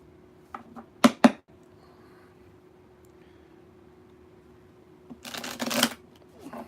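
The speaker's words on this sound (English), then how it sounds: "Jack's giving me plenty of time to shuffle these cards." Two quick riffling bursts of shuffled playing cards, then a pause and a longer, louder riffle with a bridging flutter near the end.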